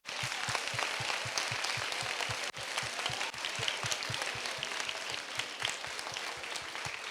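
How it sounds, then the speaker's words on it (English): An audience at a school house masquerade event gives sustained applause to its house captains, a dense steady wash of many hands clapping, with a rhythmic low thump pulsing underneath throughout. "Can we have a huge round of applause for them?"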